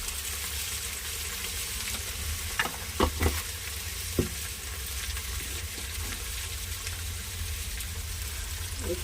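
Onion, green chili, ginger garlic paste and salt frying in a pan give a steady, even sizzle throughout, with a few brief clinks and scrapes of stirring.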